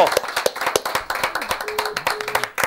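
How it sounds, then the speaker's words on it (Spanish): Audience applause for an honored guest, a quick burst of close, distinct hand claps with an uneven rhythm, while a voice speaks briefly over it. "Un aplauso para Marcos Cobri"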